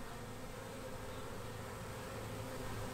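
A honey bee swarm hums outdoors in a steady, dense drone of many wings, constant and even in level with no pauses.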